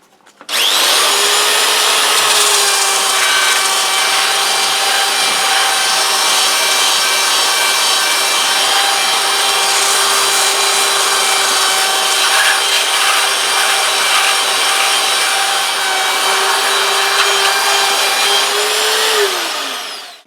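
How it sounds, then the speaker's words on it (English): A belt sander grinds down the top of a Watkins Rapier 33 guitar, its motor whining loud and steady for about twenty seconds with a constant abrasive rasp, starting abruptly and winding down at the end. "So we're just going to go to the belt sander just to be a lot safer."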